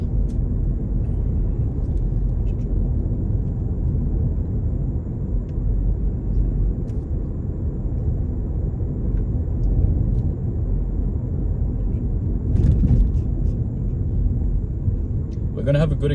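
A car driving through a residential zone on a driving test gives a steady low road and engine rumble from inside the cabin, with a few faint clicks near the end.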